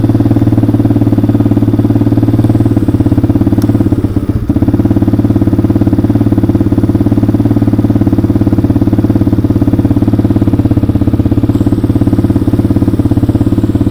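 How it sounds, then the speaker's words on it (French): A drift trike's small engine runs steadily and loud at close range, a continuous idling chug with a brief dip partway through before settling back to an even rumble. "Le moteur a l'air de super bien tourner."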